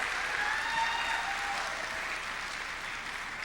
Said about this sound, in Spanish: Démosles un aplauso otra vez, por favor